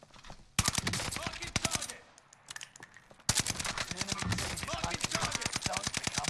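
Bursts of rapid automatic gunfire in a shooter video game, loud and close, with one stretch of sustained fire, a short pause, then a longer run of shots.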